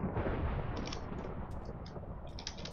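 A video game explosion opens with a loud low boom, then a rumbling roar that slowly fades, with small bright crackles and debris bits scattered through the decay.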